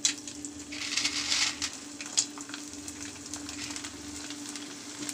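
Onion vathal made from ration rice fries in hot oil, giving a steady, close sizzle with crackling pops that carries on throughout with no talk.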